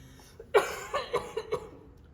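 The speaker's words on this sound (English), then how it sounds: "So, you got a little coughing issue there." A person coughs several times in a short, rough burst, close up with no talking.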